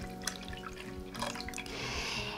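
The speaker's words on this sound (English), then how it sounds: "Next, I'm going to go ahead and add about a cup of milk" Milk poured into hot water with melted butter in a pot, a steady liquid splash and trickle building louder toward the end, alone without talk.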